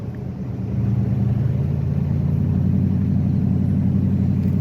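Car interior rumble while driving through Huntington Beach State Park near Myrtle Beach, South Carolina: a steady low engine and road drone that swells slightly early on, then holds even, with no talking.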